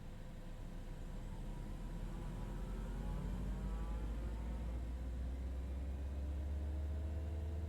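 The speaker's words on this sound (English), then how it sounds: "Engines are starting." Cessna Citation X jet engines starting in Microsoft Flight Simulator 2024, a faint low rumble swelling gradually with rising whine tones spooling up steadily.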